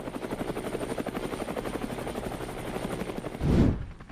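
A CH-53 military transport helicopter's rotor thumps in a fast steady rhythm with a whining turbine above, loud and close, then cuts off abruptly near the end.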